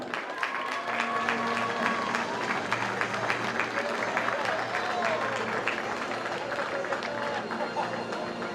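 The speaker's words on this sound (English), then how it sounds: "I think we can give them a round of applause, ladies and gentlemen." Applause from a crowd in the stands at a national track and field championship, steady clapping and cheering that holds at an even, loud level throughout.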